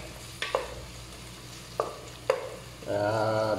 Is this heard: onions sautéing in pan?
yes